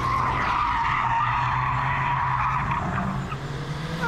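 Car tires skid and squeal in a continuous steady screech while the car slides through a track corner during a timed lap, with engine drone underneath, fairly close and loud throughout.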